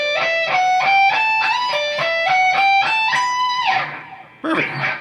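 Lead electric guitar plays part of a solo, a bright run of repeated picked notes in steady rhythm that climbs and then falls in a bend-like slide, loud and close with no talking.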